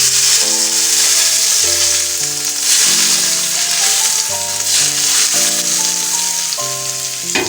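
Hot cooking oil poured into Sundanese sambal goang sizzles loudly and steadily, a dense hiss over soft background music, with no talk.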